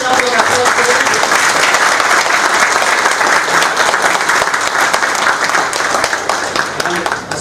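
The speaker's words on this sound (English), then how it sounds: "Big round of applause for them." A conference audience at a nuclear energy roadmap event gives loud, sustained applause for the organising team, with dense, even clapping filling the room throughout.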